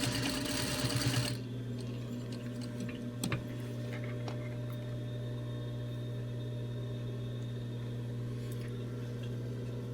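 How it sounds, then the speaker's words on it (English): A sewing machine stitching the seam of a fabric face mask, running in a fast, loud burst for about a second, then dropping away and leaving a steady low mechanical hum with a few faint clicks. "back tack the end of the seam for strength"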